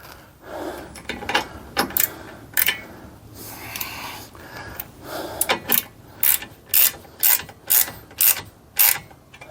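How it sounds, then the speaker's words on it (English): Small clamp bolts being snugged down on a Baker luggage rack fitted to a Polaris Slingshot, giving a close series of sharp ratchet clicks in short bursts that grow more regular toward the end. "I'm just gonna snug these little bolts right here, these little clamp bolts."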